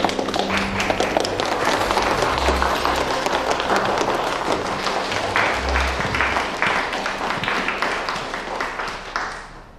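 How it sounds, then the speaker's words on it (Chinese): Audience applause at a charity auction welcoming a buyer on stage, a dense, even clatter of many hands clapping that fades near the end, with low music underneath. "用这里的掌声，有请他上台说几句"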